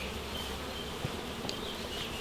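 Honey bees from an open hive fill the air with a dense, steady buzz, close and continuous, with a few faint soft taps along the way.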